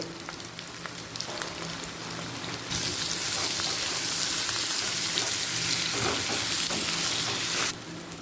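Potato pieces frying with a little turmeric in oil in a kadai, a steady close sizzle that swells louder and brighter partway through, with a few faint scrapes of stirring and no talk.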